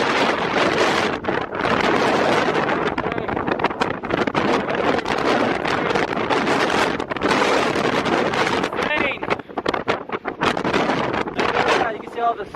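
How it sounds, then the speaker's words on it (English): Strong wind roars across the microphone during a Big Bear snow storm, loud and nearly constant with gusty surges throughout, and a person talks faintly beneath it. "It's extremely windy over here."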